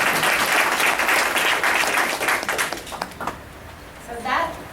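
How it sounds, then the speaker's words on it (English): Audience applauds at a candidates' evening meeting, with dense, loud clapping that fades after about three seconds into scattered claps, followed by a brief voice. "I think he deserves a round of applause for serving."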